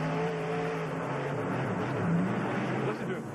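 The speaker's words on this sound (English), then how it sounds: "Listen to him work that throttle and the power of that T-Max engine." A Ford monster truck with a T-Max engine at a freestyle show in Houston, its engine roaring steadily as the throttle is worked, with a dense continuous rumble and a slight surge in the middle.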